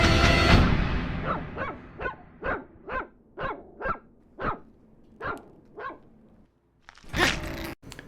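A puppy barks in a steady run of about a dozen sharp yaps at even intervals, clear and fairly close, after a loud opening burst and ending with a couple of harsher noises.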